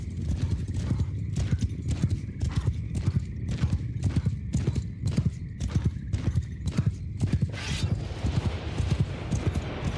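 Rhythmic clip-clop of horse hooves galloping in the medieval battle game Bannerlord, steady and fairly loud across the clip, with occasional whinnies and a soft voice beneath the trotting.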